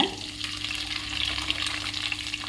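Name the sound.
tomato onion paste poured into pan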